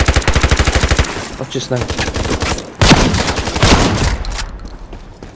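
Rapid automatic gunfire from an MP5 and shotgun blasts in the online shooter Ironsight, loud and close, with a steady burst of regular shots followed by heavier scattered fire while players talk over it.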